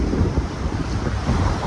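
Sea waves wash onto a rocky beach cove in Pangasinan, a steady broadband roar of surf mixed with wind buffeting the microphone, continuous and close with no voices.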